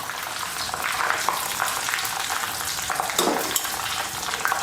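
Mustard seeds and fenugreek sizzle and crackle steadily in hot oil while pickling Indian gooseberry, a continuous close frying hiss with small pops and a brief stir near the end, no talking.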